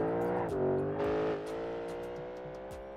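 Lamborghini engine in the BeamNG.drive driving game, a loud, steady engine drone with a pitch rise and fall early on, then settling as it drives on, no talk.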